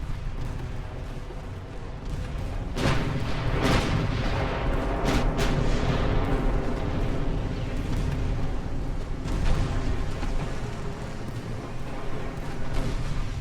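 Heavy naval gunfire from warships in the game Ultimate Admiral: Dreadnoughts, with several loud booming salvos and sharp cracks spread over a continuous low rumble of battle.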